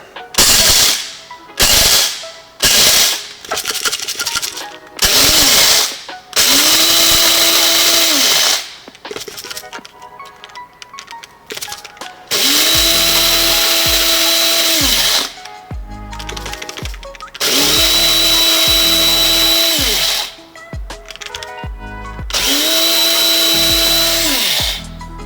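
Coffee grinder grinding coffee beans in repeated bursts, loud and close, with short rapid pulses at first and then several longer whirring runs separated by pauses.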